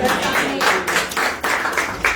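A church congregation claps together during a sermon, a series of loud, roughly rhythmic bursts of clapping mixed with voices.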